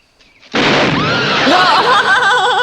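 A sudden loud cannon test blast bursts out after a quiet moment, followed by a sustained rumbling roar with whistling, wavering tones.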